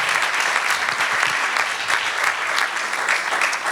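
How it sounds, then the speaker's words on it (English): An audience at a political event in Dubuque, Iowa applauds a senator with steady, dense clapping that carries on evenly for several seconds at moderate loudness. "Let's have another round of applause for our senator."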